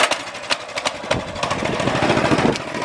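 Cheap $300 motorcycle engine started with the choke on, turning over and settling into a loud, rough, choppy running rumble with uneven pulses close by.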